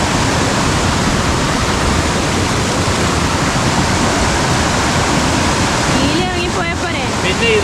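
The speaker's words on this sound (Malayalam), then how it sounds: "അവിടെ ഒരു തട്ട് വെള്ളം, അതിൻ്റെ താഴെ ഒരു തട്ട്, അതിൻ്റെ താഴെ ഒരു തട്ട്, പിന്നെ അങ്ങനെ ഒഴുകി പോവുക കേട്ടോ." Paathanpara waterfall in Kerala spills down stepped rock terraces with a loud, unbroken roar of rushing water, heard close up; a faint voice surfaces briefly near the end.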